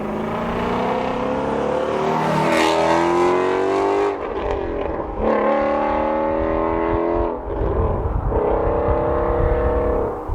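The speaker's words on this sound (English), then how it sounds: "So super distinctive, that's for sure, but fantastic exhaust sound." Ford Shelby GT350 Mustang exhaust roaring loudly through repeated revs and gear changes, with rising harmonic sweeps and brief dips between pulls, close and continuous with no talk.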